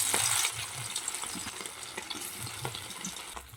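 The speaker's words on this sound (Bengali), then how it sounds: "মাছগুলো এখানে ভাজা হচ্ছে" Small mola fish fry in hot oil in a wok, giving a soft, even sizzle with scattered light pops, a brief louder hiss at the start, and no talking.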